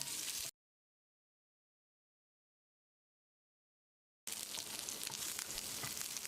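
Garlic, tamarind and curry leaves sautéing in a pan for a wedding-style chutney give a steady, fairly quiet frying sizzle, heard in a short burst and then again after a gap of silence.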